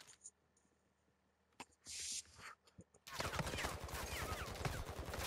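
Gunfire in Call of Duty: Modern Warfare II DMZ, a few faint distant pops and a short burst, then a sustained loud rapid machine-gun volley close by for the final seconds.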